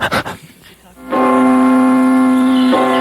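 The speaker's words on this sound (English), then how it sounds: "Buzz, this music and the bell ringing, of course, means we're back up to commercials." On a 1993 radio show, a bell rings out as the cue for a commercial break, sustaining a bright, steady tone over music for about two seconds after a short burst of louder opening sounds.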